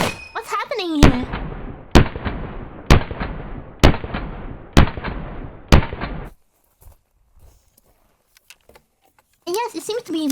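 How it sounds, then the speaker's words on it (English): Six sharp M1 Garand rifle shots crack at an even pace, each with a short decaying echo, then a quiet gap; voices are heard at the start and the end. "it seems to be with this gun, the M1 Garand"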